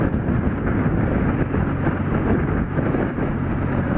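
Strong gusting wind roars and buffets the microphone while an old motorcycle is ridden, a loud continuous low rumble with no break and no voices.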